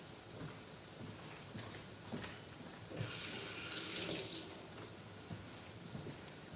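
Tap water runs into a sink as hands are rinsed during home cooking of dry fish, a steady rushing stream swelling louder midway and continuing close by without speech.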